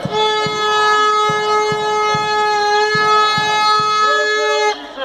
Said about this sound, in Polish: Przestańmy trąbić na chwilę.